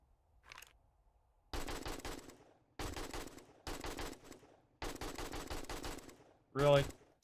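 Bursts of automatic gunfire in the 7 Days to Die survival game, several sustained volleys of rapid shots separated by short pauses, loud and close, ending with a brief sharp burst.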